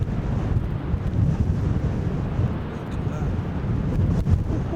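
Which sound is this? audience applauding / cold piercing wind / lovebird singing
cold piercing wind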